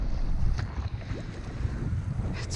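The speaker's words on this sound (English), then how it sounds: "It's really windy out," Strong wind buffets the microphone aboard a fishing boat out on choppy, wavy water, a steady loud rush and rumble with faint splashing and no voices.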